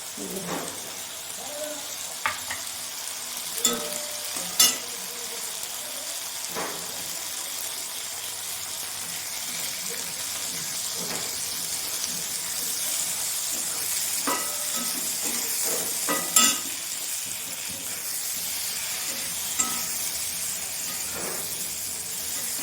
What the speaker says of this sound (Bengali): সিমটা আমার বেশ ভালো করেই ভাজা হয়ে গেছে